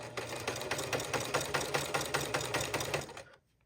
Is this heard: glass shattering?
no